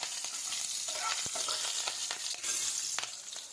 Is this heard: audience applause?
no